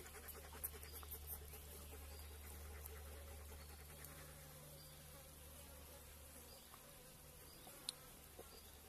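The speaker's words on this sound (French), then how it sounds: "Là, c'est des mouches." Flies buzz around outdoors near a Weimaraner dog, a faint, continuous droning hum with a few brief louder passes close by, under a low steady background.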